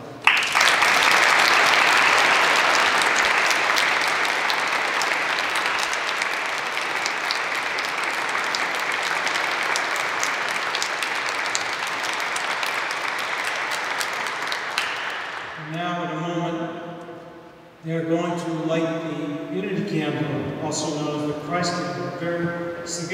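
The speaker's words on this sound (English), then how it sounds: "with applause and applause only, please" Congregation applauds newlyweds Caryn and Marco inside a church at their wedding, a dense, loud sustained roar of many hands that gradually thins, then gives way after about fifteen seconds to music or voices.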